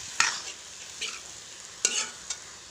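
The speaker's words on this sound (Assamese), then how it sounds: "মই ধুনীয়াকৈ লৰাই দিছোঁ।" Food fries in a pan as a spoon stirs it, making several sharp scraping clatters over a soft, steady sizzle.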